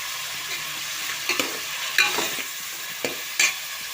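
Onions frying with salt and a little turmeric in a pan, a near, even sizzle broken by a few quick stirring scrapes and clinks.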